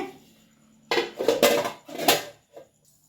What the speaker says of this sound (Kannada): ಇದಕ್ಕೊಂದು ಮುಚ್ಚಳವನ್ನು ಮುಚ್ಚಿ ನಾನು ಸೈಡಲ್ಲಿ ಇಡ್ತೇನೆ